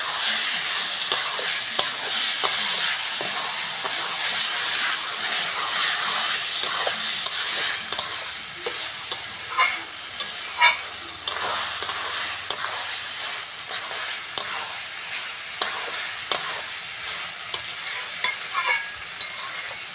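Rice being fried in a pan for biryani, a loud, close, steady sizzle with frequent sharp scraping and tapping strokes of a spatula throughout, no talk.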